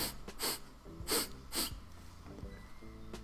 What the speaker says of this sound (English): Nobody wants to hear you sniffle.